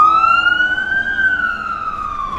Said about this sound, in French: Enfin, on entend le son des sirènes de pompiers.